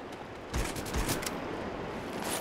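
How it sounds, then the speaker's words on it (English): Automatic shotgun fire in the How to Survive video game, a dense burst of blasts starting about halfway in and merging into a continuous rattling roar, loud and without talk. "That's like an automatic shotgun."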